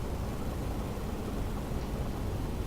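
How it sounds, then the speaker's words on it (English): A constant mechanical hum and broad white-noise hiss fill an industrial test chamber in the Portal 2 video game, steady and unbroken throughout, with no talk. "And you get into here and it's all mechanical again. Like the hum, the white noise."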